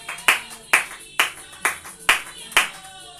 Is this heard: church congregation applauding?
yes